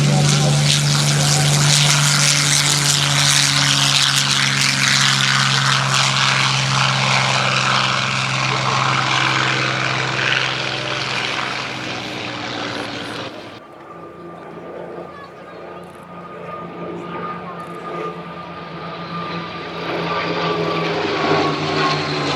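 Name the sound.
engine of original Messerschmitt Bf109 E4 aircraft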